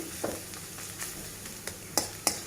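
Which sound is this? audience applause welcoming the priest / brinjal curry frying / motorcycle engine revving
brinjal curry frying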